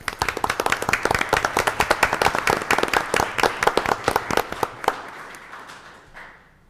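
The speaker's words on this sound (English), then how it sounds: "Let's give a round of applause" A small group at a county supervisors' meeting claps for two law enforcement officers, a brisk burst of close, distinct hand claps that thins out and fades to quiet near the end.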